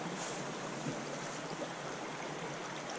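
A stream runs beneath a bridge near the Torreón de los Osorios in Turienzo de los Caballeros, León, giving a steady, even rush of flowing water at moderate level, continuous and without voices.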